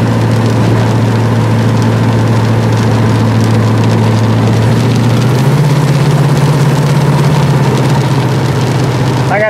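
Rain patters densely and continuously on a car, over the steady low hum of an idling engine close by.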